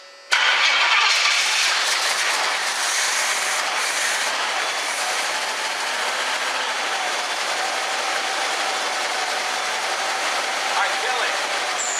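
A 1976 Pontiac Firebird Formula, a barn find with a leaking fuel line, cranks and catches, then runs at a loud, steady, rough idle for about twelve seconds.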